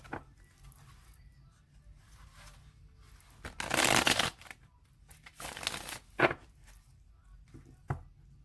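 A tarot deck is shuffled by hand in a few close, crisp bursts of riffling cards, with quieter pauses between them and faint single taps.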